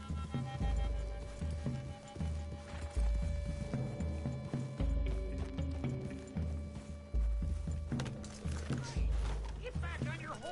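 A horse's hooves clip-clop in a steady, uneven rhythm of close thuds over a quiet low hum, with occasional higher rustling and clinking.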